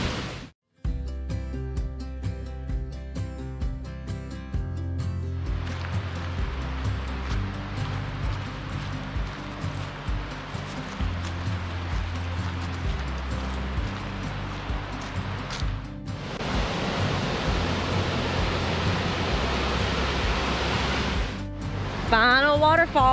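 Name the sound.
Step Falls waterfall at Old Stone Fort State Park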